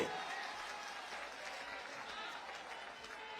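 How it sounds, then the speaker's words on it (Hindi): A crowd claps steadily to welcome the Samajwadi Party national president onto the stage at a party joining event, producing dense, continuous applause that holds at an even level for several seconds. "ताली बजाकर इस मंच पर आप स्वागत करेंगे"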